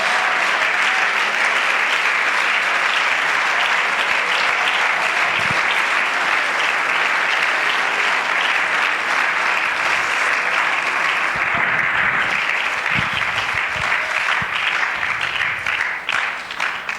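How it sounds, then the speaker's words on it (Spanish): Congregation applause during a Sunday school church service fills the space, a dense, steady wash of many hands clapping that stays loud and continuous throughout, tapering slightly at the very end. "aplauda la gloria de Dios esta mañana"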